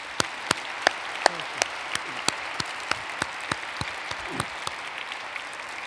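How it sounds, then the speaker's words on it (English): Sparse audience applause for Kofi Annan at a global leadership dinner, with a few distinct, fairly close claps ringing out in a loose rhythm over a soft room hum, then fading toward the end. "let's give a big applause to Kofi Annan"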